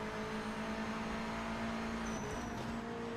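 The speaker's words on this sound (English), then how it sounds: "I'd have preferred a bit of a more of a louder engine sound on that V8" A V8 race car engine in the Project Motor Racing video game holds a steady, fairly quiet drone throughout, with a brief higher whine near the end and no speech.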